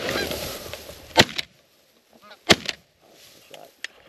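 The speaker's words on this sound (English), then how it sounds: "Two shots, two kills." Two sharp shotgun blasts ring out during a goose hunt from an A-frame hide in a wheat field, each followed by a brief echo, with goose honking and scattered calls filling the gaps around them.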